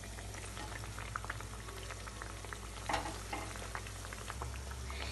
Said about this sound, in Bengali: এইবার আমি কাবাবগুলো উল্টে দেব, দিয়ে এটা উল্টে পাল্টে ভেজে কিন্তু গোল্ডেন ব্রাউন করে ভেজে নিতে হবে